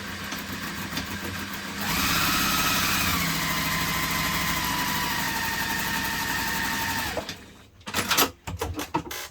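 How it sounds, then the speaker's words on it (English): A sewing machine top stitches across the exterior pieces of a bag, its motor humming steadily and fairly loud for about five seconds, then stopping and giving way to a few soft handling clicks and rustles. "You're going to stitch across the top using the seam allowance in the pattern."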